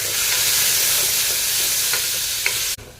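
Onion and tomato sizzle steadily in a hot pan with garlic and green chillies, a dense continuous frying hiss broken by a few faint stirring clicks before it cuts off abruptly near the end.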